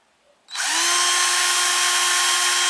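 A Cheston 10 mm cordless drill whirs up after a brief quiet moment and keeps spinning at a steady high-pitched whine, loud and close.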